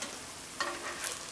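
Caribbean banana fritters fry in hot oil with a continuous close sizzle and crackle, plus a brief stir or pop partway through, with no talking.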